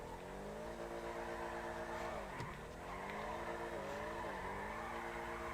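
A car drifting in GTA 5 holds a continuous revving engine drone with harmonic pitch swoops as it accelerates, shifts and slides, loud and steady throughout.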